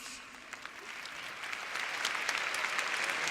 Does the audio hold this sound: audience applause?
yes